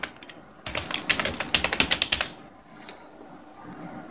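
Rapid clicking keystrokes sound on a computer keyboard while entries are typed into an Excel spreadsheet: a close, crisp burst of about a dozen taps in a quick run, followed by a few faint stray clicks and quiet room noise.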